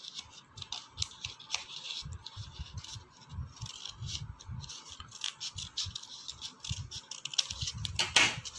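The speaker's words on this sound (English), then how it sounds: "Cut the shape of the tie." Scissors snip through paper to cut out a tie shape for a Father's Day card, a quick run of close, crisp cutting strokes in an irregular rhythm, with no talking.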